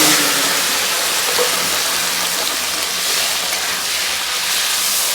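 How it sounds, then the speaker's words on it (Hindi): Mushrooms frying in a pan, a loud, steady, close-up hiss and sizzle that holds evenly with no break. "मशरूम का फ्राई हो रहा है"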